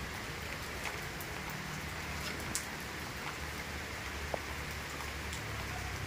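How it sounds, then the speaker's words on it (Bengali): Steady rain falls on a Bengali home's surroundings, a continuous even wash of patter and drops at moderate distance, with a couple of brief louder drips standing out and no voices. "তারপর বৃষ্টি শুরু হয়ে গেছে।"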